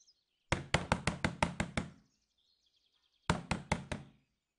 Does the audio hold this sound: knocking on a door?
yes